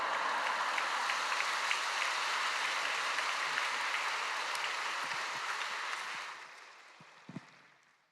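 A church congregation at a Friday evening service in Yoido Full Gospel Church applauds loudly to welcome a university president to the pulpit, a dense sustained roar of clapping that fades out over the final two seconds.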